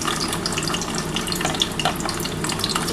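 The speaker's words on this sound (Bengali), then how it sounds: "একটু ডিমটা হালকা করে ভেজে নিচ্ছি" Duck egg frying lightly in hot oil in a pan for an egg and potato curry, giving a steady, close crackling sizzle with no voices.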